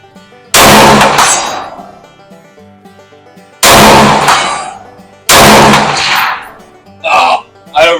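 Three loud rifle gunshots fired freehand at an outdoor range, each a sharp crack with a ringing decay, spaced a few seconds apart, followed by a couple of short clanging bursts.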